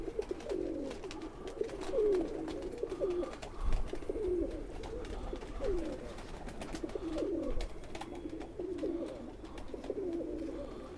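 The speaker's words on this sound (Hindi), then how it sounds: "और ये मेल कबूतर है" A male Khaki pigeon coos in a repeating series of soft, throaty calls at close range over quiet background noise.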